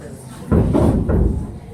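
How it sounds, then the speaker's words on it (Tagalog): Three firm knocks on the door of a house in a shadow-puppet telling of the wolf and the three little pigs, evenly spaced, close and hollow-sounding against a quiet background. "muling kumatok sa pinto ng bahay"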